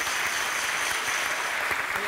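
Audience applause at a live musical fairy-tale stage show, a dense, steady clatter of many hands clapping at moderate loudness throughout.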